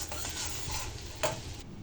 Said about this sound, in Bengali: আর আরেক চুলায় আমি ডাল ফোড়ন দিব